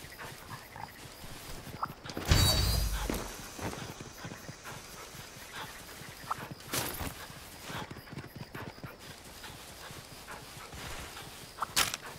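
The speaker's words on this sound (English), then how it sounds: "That dog drifting is never gonna get old." Dog mount running and drifting in the video game Monster Hunter Rise, rapid clopping paw steps and panting with a loud whoosh burst early on, continuous game ambience throughout, fairly close with no talk.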